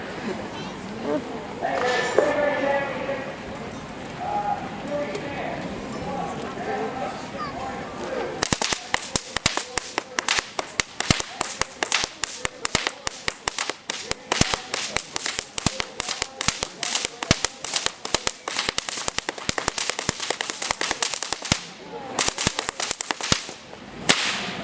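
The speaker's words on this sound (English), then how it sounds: "have you enjoyed my whip cracking display here today?" An Australian whip artist performs a helicopter whip-cracking routine before a crowd: after a stretch of talk and crowd noise, a rapid, relentless series of loud, sharp cracks continues almost nonstop to the end.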